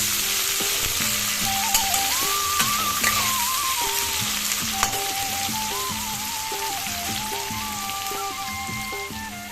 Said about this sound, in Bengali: পেঁয়াজগুলোকে নেড়ে চেড়ে ভেজে নেব।